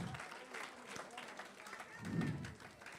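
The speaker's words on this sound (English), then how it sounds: "Let's give him a round of applause." Students applaud during a school outreach session, a faint and distant patter of clapping with voices talking over it.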